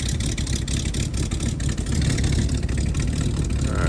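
A 1969 Mustang that sat for 15 years, its engine running close by with a steady rough idle and slight rises in revs, loud and continuous.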